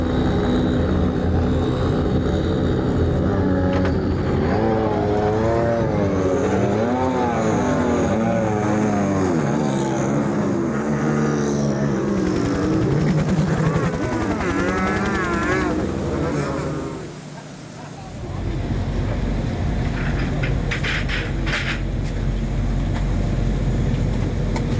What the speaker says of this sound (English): Lights out on the safety car, cars rolling under the bridge onto the front straight